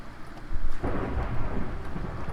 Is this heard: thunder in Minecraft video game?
yes